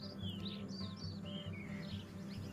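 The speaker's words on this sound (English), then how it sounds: "Spring sees another surge in birds from the Himalayan regions, filling the park with birdsong." Birdsong in Margalla Hills National Park, a scattering of high chirps and short whistled calls from several birds over a steady low rumble of background ambience.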